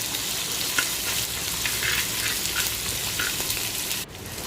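Crushed ginger and garlic sautéing in a pan for Kerala mackerel curry, giving a loud, steady sizzle and crackle throughout with faint spatula scrapes, then dropping off sharply near the end.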